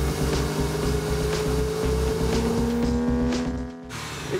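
Porsche 911 with ventilated disc brakes slowing to a stop, a steady engine and tyre drone with a falling whine that cuts off near the end, close and loud with no talking.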